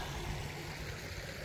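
Steady rushing water of a river flowing over and around large rocks in open countryside, a continuous even wash close by with no voices.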